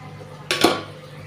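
A spoon or ladle scrapes and clanks against a cooking pot while vegetable curry is stirred and fried down, a single brief metallic clatter with a soft low knock, fairly close, with quiet room tone before and after.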